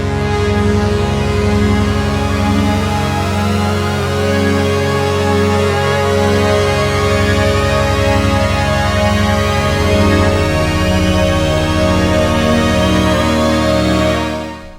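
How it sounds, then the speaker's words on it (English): Rising Tides, a preset on the Oracle synth, sweeps upward continuously as dense re-triggered tones keep climbing in pitch, a loud sustained pad playing alone for about fifteen seconds. "That is Rising Tides."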